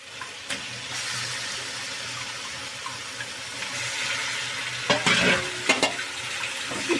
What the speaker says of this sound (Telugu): చికెన్ వేసుకున్నాం కదా, తిప్పుకున్నాం.